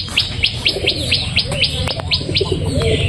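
Pigeons chase each other in courtship in a loft, with a steady run of sharp, repeated chirps and soft low cooing under constant background noise.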